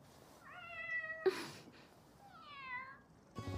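A cat meows twice inside the video game Grand Piece Online, two clear rising and falling calls near and alone with no talking, followed by a short burst of noise at the end.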